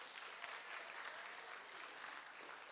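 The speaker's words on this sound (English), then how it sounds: "Let's give him a round of applause." An audience in a high school orientation claps for a school principal, a steady burst of applause from many hands that is quite faint and distant, lasting a few seconds without voices.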